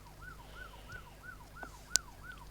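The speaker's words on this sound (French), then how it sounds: "Alors, je vais enlever les sirènes." A French national police car siren wails in a fast, steady up-and-down cycle, repeating evenly and loud and close throughout, with a sharp click near the end.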